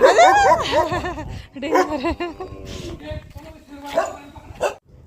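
Dogs at a rural home near Junnar bark and yelp excitedly as visitors arrive, several close barks tangled with people talking and laughing over them.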